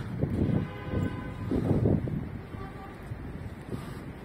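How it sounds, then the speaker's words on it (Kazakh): A train arriving at Tashkent's North railway station rumbles nearby with low, pulsing mechanical noise and wind buffeting the microphone, its sound swelling and easing over a few seconds. "ана ар жаққа пойыз келді"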